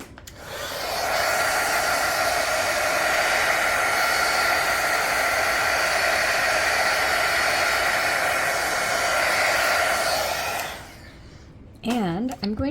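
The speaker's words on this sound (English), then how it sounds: "So now I'm going to just heat gun it." A heat gun blowing on resin, giving a loud, steady whooshing hum for about ten seconds before it switches off, followed by a brief voice.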